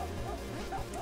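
Cartoon dogs bark and yip in the Legend of the Brofist video game, a quick run of close, yappy calls lasting about a second over a steady low game backdrop.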